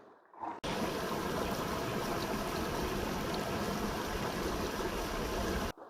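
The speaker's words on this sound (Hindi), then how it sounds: "दूर घने जंगलों से बहती आ रही है ये पानी की धारा" Mountain stream flowing down from dense forest on a winter Himalayan trek in Uttarakhand, a steady close rush and trickle of water running on without a break after a brief quiet start.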